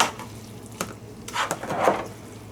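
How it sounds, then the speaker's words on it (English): Pasta being stirred and mixed in a pot with chicken and celery, giving a few soft scraping and clinking knocks of utensil against cookware with wet shuffling sounds, close and intermittent without talk. "give it a good mix."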